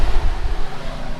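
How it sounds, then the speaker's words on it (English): Engine cooling fans running on a Mitsubishi Eclipse GSX whose engine had been misfiring, a close, loud, steady whooshing rush of air with a low rumbling undertone. "so I have the fans on"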